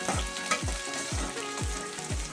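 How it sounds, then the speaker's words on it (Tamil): Seven peeled garlic cloves fry in a pan for a greens-dumpling curry, a bright continuous sizzle broken by regular low knocks, roughly twice a second, from the spatula. "ஒரு 7 பல்லு பூண்டு போட்டுக்கோங்க. உரிச்சு வச்சு நல்லா வதக்கிட்டோம்."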